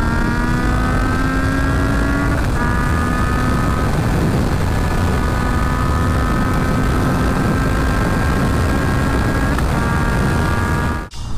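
A Yamaha MT-09 motorcycle pushed past 224 km/h, its steady high engine whine riding over a loud, continuous roar of wind rush that ends abruptly.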